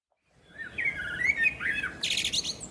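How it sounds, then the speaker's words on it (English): A blackbird sings a clear, warbling song close by in a garden, phrases rising and falling over about two seconds before a brighter burst of chirps, with no talking. "to the sound of War Blackbird"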